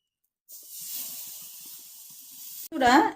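Batter hits a pan with a little hot oil while making packet dhoka, giving a steady bright sizzle for about two seconds that ends abruptly before a voice speaks.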